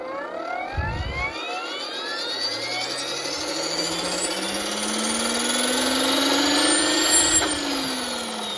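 A FlishRC FL500 EC135 RC helicopter's electric motor whines close by, its pitch climbing steadily as it spins up and then falling away near the end, after a brief thump at the start.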